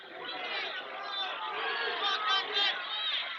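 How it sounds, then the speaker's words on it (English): A wrestling crowd at a high school dual meet shouts for a stalling call, a dense continuous roar of voices that swells slightly near the end. "Crowd asking for a stall."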